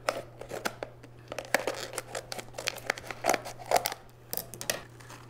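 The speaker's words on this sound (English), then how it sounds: "I'm just gonna do it with scissors and try not to cut any of the leaves." Scissors snip through plastic plant packaging around a Java fern for an indoor water garden, a run of sharp, close cuts mixed with crinkling and tearing, with a steady low hum underneath.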